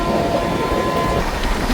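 A Humsafar Express train runs between Sealdah and Jalpaiguri with a loud, steady rolling rumble and wheel noise heard from on board, and a faint sustained tone holds for the first part.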